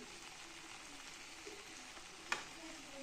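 Okra frying and being stirred in a pan, a faint steady sizzle with a single brief scrape of the spatula, quiet and without any talking.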